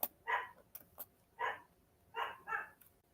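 Puppy barking, four or five short sharp yips in an uneven rhythm with a few faint clicks between them, fairly quiet and with no talk.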